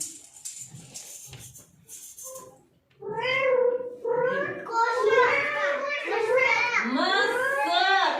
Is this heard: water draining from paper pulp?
no